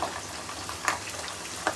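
Spices and chillies sizzle quietly in hot oil as a tempering for sweet jaggery mango pickle, a soft steady fizz broken by a few sharp crackling pops.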